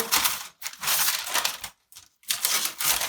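Several quick bursts of crisp snipping and crinkling as scissors cut into the corners of baking paper, close by, separated by short pauses.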